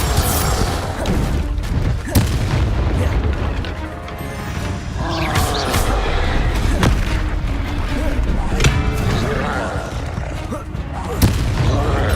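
Confringo blasting spells go off in Hogwarts Legacy, heavy booms and crashes stacking into a dense, loud, continuous barrage of spell combat with several sharper hits along the way.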